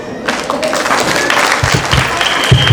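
Wedding guests clap together at an evening celebration, a loud, fairly dense burst of applause that carries on steadily with a few sharper claps standing out near the end.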